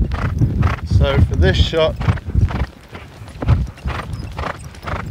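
Polo horse hooves clip-clop in quick, uneven beats during play with a ball, with a neigh partway through; someone talks over the hoofbeats.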